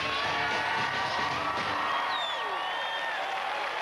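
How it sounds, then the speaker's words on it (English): A television magic special audience gives Whoopi Goldberg a big ovation of steady applause mixed with cheers and whoops. The crowd noise is loud and continuous throughout, with occasional shouts rising above the clapping. "Big round of applause for the amazing Whoopi Goldberg."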